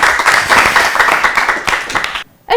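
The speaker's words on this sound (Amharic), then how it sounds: "እሺ አጨብጭቡላችሁ።" An audience claps for contestants on a children's Easter quiz competition show, a dense burst of applause that runs for about two seconds and then stops abruptly.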